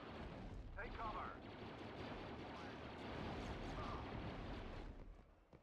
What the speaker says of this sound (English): Safe for now from turret fire.